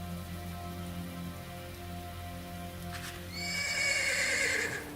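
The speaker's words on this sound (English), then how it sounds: "It makes the horses nervous and you pull back on their bridles." Horses whinny loudly in the video game Ash of Gods, a sharp neigh rising after the midpoint over steady rain, a low ambient drone and hoof clip-clop, with no talking.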